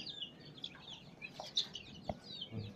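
Faint, scattered clucks and high peeps from young chicks come as short, irregular calls against a quiet background during eye-drop Gumboro vaccination.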